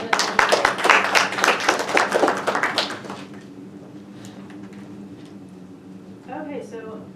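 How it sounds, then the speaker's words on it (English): A small group at a workshop session gives a round of applause, about three seconds of brisk, close clapping that stops abruptly, followed by a brief spoken word. "Round of applause for everyone"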